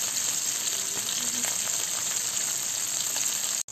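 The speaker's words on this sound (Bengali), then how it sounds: "ভাজার জন্য মাছগুলো আমি দিয়ে দিলাম" Shing fish frying in hot oil, a steady dense sizzle that runs unbroken and fairly loud before cutting out abruptly at the very end.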